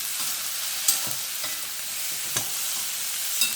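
Tomatoes and small onions fry in oil for a chutney, a steady close sizzle throughout, broken by a few soft stirring clinks and scrapes, with no talk.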